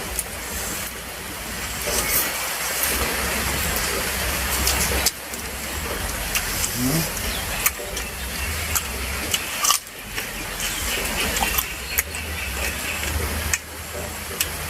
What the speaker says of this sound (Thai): เย็นดีครับมันฝนตก